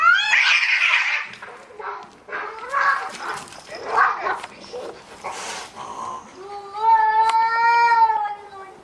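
Cats fight in a home, with loud yowls, growls and hisses in bursts, ending in a long rising caterwaul that wavers in pitch.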